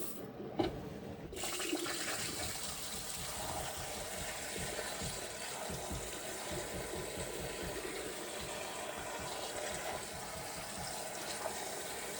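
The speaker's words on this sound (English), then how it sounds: "I'm going to try it out for running my flush system here." A pump runs a descaling flush through a Navien NPE-240S2 condensing tankless water heater: water rushes steadily through a hose with a low pump hum underneath, continuous and fairly faint, after a brief clunk at the start.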